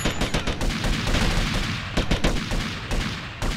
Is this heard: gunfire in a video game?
yes